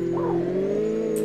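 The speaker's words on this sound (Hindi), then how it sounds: "मैं तुम लोगों को सुनाने वाला हूँ हमारी इस गाड़ी की साउंड" A Ferrari engine in the video game Pumping Simulator 2 hums as a steady, close tonal drone with a brief upward rev near the start, smooth and unbroken.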